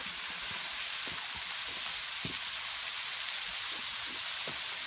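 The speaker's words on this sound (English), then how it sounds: "And they're sauteing up nicely." Onions, red and green peppers and green beans sauté in a paella pan over a fire, a dense steady sizzle with scattered soft pops and stir noises throughout.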